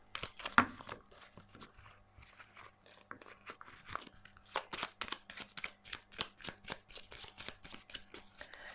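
Tarot cards are shuffled and handled in a series of crisp riffling and slapping bursts, with denser rapid card flicks building toward the end, close and fairly quiet with no talk.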